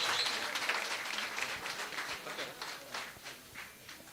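Applause from an audience at a textile and children's clothing store inauguration ceremony, a steady dense patter of many hands clapping for about four seconds, moderately loud and gradually thinning.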